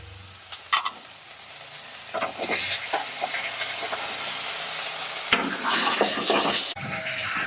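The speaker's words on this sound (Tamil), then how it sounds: "நான் இஞ்சி பூண்டு விழுது போட்டிருக்கிறேன் தக்காளி போடுறேன்" Chopped tomato sizzles in a pan with hot oil and ginger-garlic paste while cooking palak paneer masala, a close, steady frying hiss with stirring scrapes and louder bursts of sizzle.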